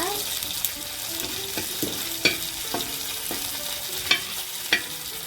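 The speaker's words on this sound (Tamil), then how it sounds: "இந்த மீனை பொறிச்சு எடுக்கிறதுக்கே இருபது நிமிஷத்துக்கு மேலே ஆயிடுச்சு நம்ம விறகடுப்பில் சமைச்சதால" Fish fries in oil on a wood-fired stove with a steady close hiss, broken by occasional sharp pops and clinks, and a faint voice now and then.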